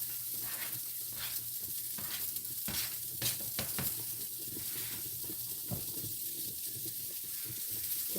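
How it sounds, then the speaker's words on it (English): Garlic sizzles steadily in a hot pan for chicken marsala, a continuous close frying hiss with occasional scrapes and stirring clatter, no talking. "And once it gets about like that, then you put your garlic in there."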